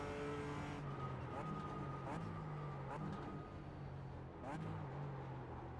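Simulated race-car engine drone from an iRacing Nürburgring 24-hour run in a BMW M4 GT4, with a faster GT3 car closing in from behind; steady, loud engine tone with brief rising shifts and a faint voice underneath.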